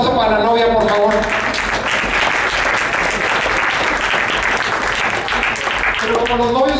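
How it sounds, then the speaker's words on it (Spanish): Applause for the bride at an event at the Monterrey International Book Fair swells into a full, loud round of clapping after a voice at the start, and a voice returns briefly as it fades. "Un aplauso para la novia, por favor."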